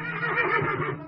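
A horse neighs loudly and close by, one brief, shaky whinny that fills the short moment on its own.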